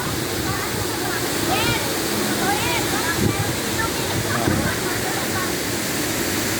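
Tagbibinta Falls in Maragusan, Davao de Oro, pours in a loud, constant roar of rushing water, while voices talk faintly beneath the spray.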